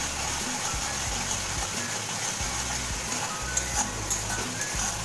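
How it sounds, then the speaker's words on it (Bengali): Onion fries in oil in a pan, with a continuous bright sizzle and light crackle, steady and close throughout. "দেখুন ভালো করে পেঁয়াজটাকে কিন্তু তেলের মধ্যে আমি কষিয়ে নিচ্ছি।"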